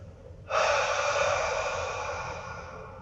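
Deliberate deep breathing during a psoas stretch: a single long, forceful breath that starts abruptly and stays loud and airy for a few seconds, slowly easing off, heard close and alone with no talking.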